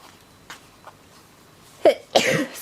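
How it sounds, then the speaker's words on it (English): A single loud, close sneeze from a woman with hay fever, preceded by a sharp intake of breath and a few faint sounds in a quiet indoor room. "that sneeze finally came."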